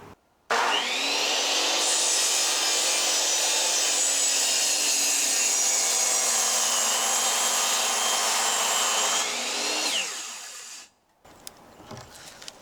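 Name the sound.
cutting 4x6 wooden beams for a gazebo foundation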